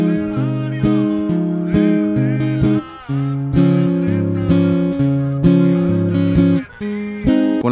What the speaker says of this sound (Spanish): Ahora vamos con el rasgueo. El que utilizarás suena así.